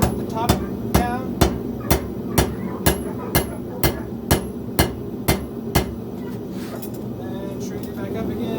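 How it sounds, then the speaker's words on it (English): Hot steel struck on an anvil while forging a knife from a farrier's rasp: about a dozen sharp, ringing hammer blows land in a steady rhythm, close and loud over a low background hum. "I'm just going to hammer from the top down."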